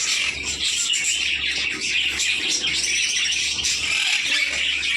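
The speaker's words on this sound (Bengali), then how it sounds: "এদিকে আছে ব্লু মার্কস লাভ বার্ড, এটা মেল।" A dense, constant chatter of shrill chirps and squawks comes from a male blue masked lovebird among other caged foreign pet birds, loud and close with no talk.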